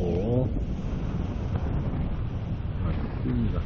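Wind gusts buffet the microphone as a paraglider takes off from Jangamsan in Pyeongchang, a steady loud roaring rush throughout, with a brief voice near the start and end.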